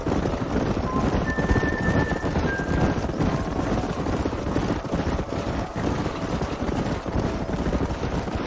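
Horses gallop through a canyon during a wild-horse roundup in the game Red Dead Redemption, a dense continuous drumming of hooves with wind rush and a faint whinny, loud and close, no talking.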